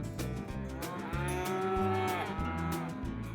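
Calves bawl loudly in a branding pen during a ranch branding, with several overlapping, drawn-out moos that continue without pause.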